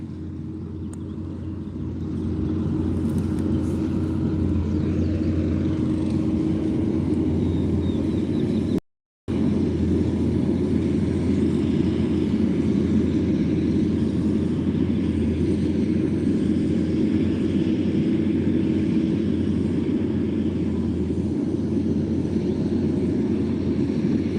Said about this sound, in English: Here comes the skid steer.